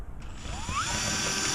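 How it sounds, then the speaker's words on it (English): Power drill biting into aluminum during a grinding and cleanup job, a rising whine sweeping upward and then holding a steady high buzz, close and fairly loud with no talk. "So I'm just going in with the drill in a little bit."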